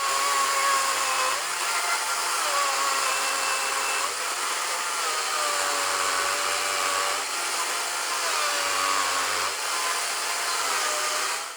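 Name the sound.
DeWalt DCMCS575 cordless chainsaw cutting a tree trunk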